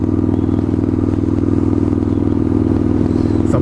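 Straight-pipe motorcycle exhaust while riding, a loud, steady low rumble with a rough, pulsing texture that holds constant throughout, close and alone with no speech.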